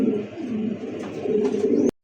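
A male black fancy pigeon coos close by, with a low, throaty warbling call that rises and falls in a couple of swells before it cuts off abruptly.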